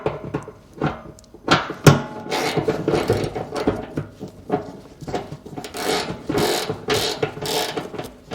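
Socket ratchet tightening fuel tank bolts, with irregular clicks, knocks and metallic clatter in short bursts, close by and fairly loud; no talking.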